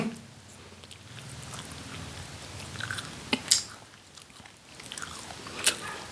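Someone chews a rolled cuttlefish snack with soft, moist, slow bites up close, plus a few sharper crunchy clicks between the chewing.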